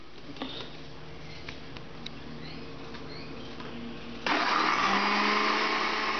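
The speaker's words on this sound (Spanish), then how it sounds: "aquí ya lo tenemos todo en la batidora" A kitchen blender switches on near the end to blend washed herbs with raw water for a green Andean soup, a sudden steady whirring roar following quiet kitchen background with faint clicks.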